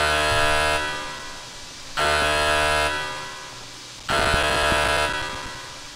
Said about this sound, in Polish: Dobra, muszę wyłączyć ten alarm.